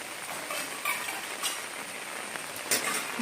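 Rain falling steadily through the night in a garden with shiuli and hibiscus trees during the monsoon, a soft continuous hiss with a few brief louder patters, no voices.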